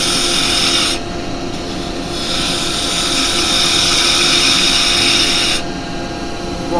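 A carbide woodturning tool cuts a wooden pot spinning on a lathe, producing a loud, continuous hissing scrape that drops briefly twice as the tool lifts off the wood.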